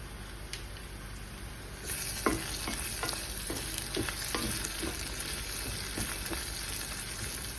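Spices and vegetables for tomato rice sizzle steadily in hot oil, with soft scraping stirs and light clicks of a spoon against the pan throughout, close and continuous with no talking.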